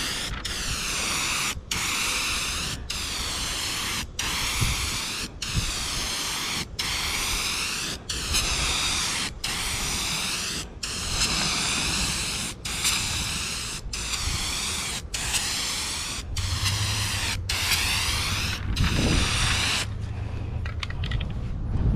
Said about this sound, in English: you can just buy a regular can of paint and have this nozzle on it